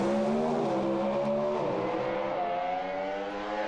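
Drag racing cars roaring down the track side by side in hot conditions, a loud continuous engine howl whose pitch climbs steadily as they accelerate away.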